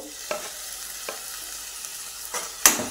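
Tomatoes sautéed with ground spice paste in hot oil for a Marathi peas curry: a soft, steady sizzle with a few light spoon scrapes and stirring clicks, ending on a sharper clink.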